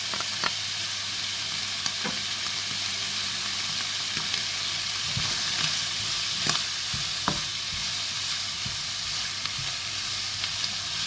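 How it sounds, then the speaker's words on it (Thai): Tomato, ginger and onion stir-fried in a pan for chicken with ginger, giving a continuous sizzle with occasional scrapes and clinks of the spatula, close and steady with no talking. "เราก็จะใส่นะคะ มะเขือเทศเนาะ หิงนะคะแล้วก็หัวหอมเนาะ มันจะผัดนะคะ"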